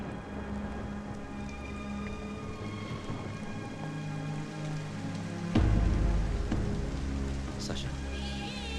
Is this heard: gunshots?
no